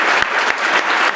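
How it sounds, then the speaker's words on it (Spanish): Audience applause for a panel of speakers at a hydrogen industry conference, dense, steady clapping heard close and loud in a brief burst. "Así que nuevamente un aplauso para todos los panelistas."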